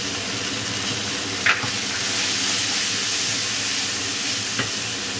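Ground chilli, coriander, cumin and black pepper powders sizzle steadily in hot oil in a pan for a hotel-style Bengali fish curry, a continuous close frying hiss with a couple of brief louder spits, no talk.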